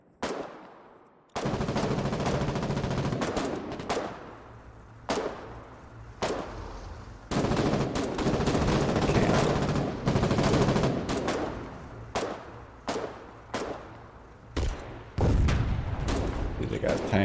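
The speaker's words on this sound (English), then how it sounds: "They got tanks shooting at us." Gunfire and tank shots in the war game Foxhole come as loud repeated bursts and booms, separated by short gaps and rising to near-continuous fire in the middle stretch.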